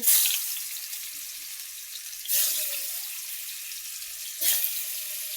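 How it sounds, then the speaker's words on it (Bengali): Fish dropped into hot oil in a home kitchen sets off a broad, steady sizzle that surges at the start and again twice more as pieces are added, then settles into a continuous crackling hiss with no talking. "তেল গরম হয়ে গেছে, আমি মাছগুলো এখন দিয়ে দিচ্ছি।"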